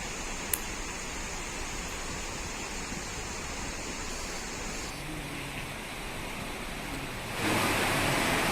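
A waterfall in a forest near Songadh, Gujarat, gives a constant, dense roar of rushing water that fills the whole stretch, steady and loud, and swells briefly near the end.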